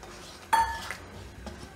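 Mawa being tipped into a pan and stirred while making kopra pak, a clink of a utensil against the metal pan followed by a softer scrape and another light knock, close and fairly quiet.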